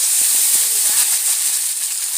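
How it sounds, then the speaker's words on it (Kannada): Oggarane tempering for avare kalu sambar sizzles in hot oil with a loud, steady hiss, broken by a few brief pops and crackles. "ಒಗ್ಗರಣೆ ಹಾಕ್ಕೊತಾ ಇದ್ದೀವಿ"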